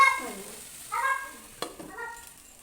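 Vegetables cook in a pan on a home kitchen stove, giving a faint sizzle. Short scraping stirs come through close by, with a sharp clink partway through.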